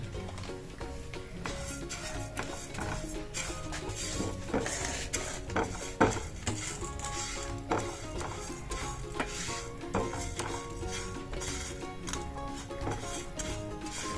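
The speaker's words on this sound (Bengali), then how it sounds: "ডালটা আমি একটু ভেজে নেব" Moong dal dry-roasts in a pan for a Bengali mixed-vegetable dal, with continuous scraping and stirring from a metal utensil and light clinks against the pan, close and steady.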